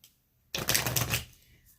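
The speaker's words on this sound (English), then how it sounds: "I'm going to shuffle one more time." A quick riffle of tarot cards being shuffled, a brisk papery flutter lasting under a second, close by and moderately quiet.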